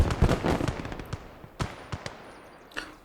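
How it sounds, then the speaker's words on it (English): Flak gun firing in a World War II Eastern Front battle game, a burst of sharp booming shots at the start followed by scattered single bangs spaced out over the next few seconds. "Our flak gun is doing me a fucking solid over here, though."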